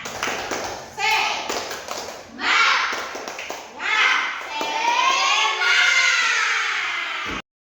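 Children in a primary school class perform the 'tepuk semangat' ice-breaking clapping game, with bursts of rhythmic clapping and shouted chanting in repeated phrases, loud and close.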